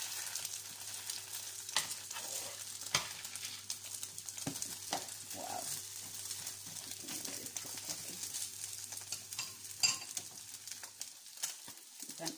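An egg-dipped bread slice sizzles steadily in hot oil for French toast, a continuous soft frying hiss with occasional light pops and crackles, heard alone without talk.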